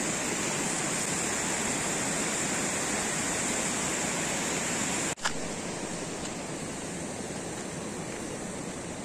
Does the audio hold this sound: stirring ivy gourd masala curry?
no